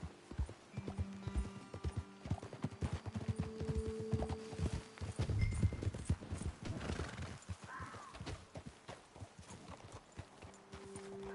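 Horse hooves clip-clop in Red Dead Redemption 2, an irregular run of close, clear hoofbeats with a horse neighing and snorting among them, no speech.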